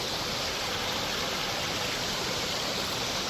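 A crystal clear stream rushes over boulders at Table Falls near Driftwood, Pennsylvania, giving a steady, loud, close hiss of flowing water with no pauses.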